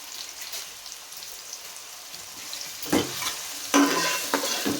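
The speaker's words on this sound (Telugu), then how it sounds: "ఇదిగోండి ఆయిల్ వేడైన ఇదిగోండి ఉల్లిపాయ ముక్కలు ఇలాగా సన్నగా తరిగి వేస్తున్నానండి." Thinly sliced onions hit hot oil for a fish head curry, giving a steady close sizzle with scattered crackles and a few sharper spits toward the end, no voices.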